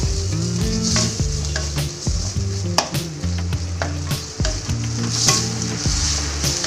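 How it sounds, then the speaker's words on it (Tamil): Onion sautéing with ginger garlic paste in a pan for paneer butter masala, loud continuous sizzling punctuated by clicks and scraping of stirring, close up with a low hum beneath and no talking. "இஞ்சி பூண்டு பேஸ்ட் எடுத்து வச்சோம் இல்லைங்களா, அதை சேர்த்துக்குவோம். அதையும் போட்டு நல்லா வதக்கிக்குவோம்."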